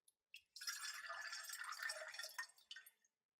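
Liquid pours steadily into a glass separatory funnel preloaded with hexanes in a chemistry lab, a close, continuous splashing trickle lasting a few seconds before it stops with a few last drips.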